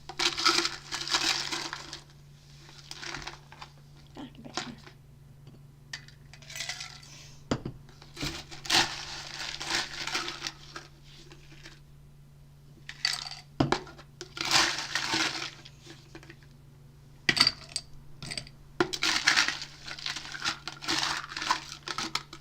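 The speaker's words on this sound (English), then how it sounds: "fill the glass with ice." Ice cubes dropped into a cocktail glass, a burst of clattering, crinkly knocks repeating in several bursts over a steady low hum, with brief speech in between.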